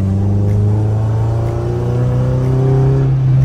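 A Maruti Gypsy's engine revs loudly and close as it drives past, a steady droning growl that rises slightly in pitch toward the end, heard alone without talk.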